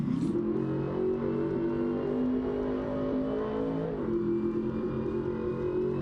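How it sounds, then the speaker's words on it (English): Supercharged, cammed LS3 V8 in a 1968 Camaro in BeamNG.drive, a steady loud engine drone with supercharger whine, rising slightly then settling to a lower pitch partway through. "you hear a supercharger, don't you? It's because it has one."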